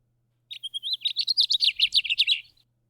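A single fast, warbling house finch song, a rapid run of bright chirping notes lasting about two seconds, clear and close against quiet surroundings.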